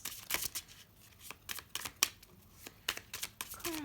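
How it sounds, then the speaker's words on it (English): Tarot cards shuffled by hand in a quiet room, a run of crisp riffling snaps and soft slides in irregular bursts, close and fairly quiet. "You can fast forward through the shuffling."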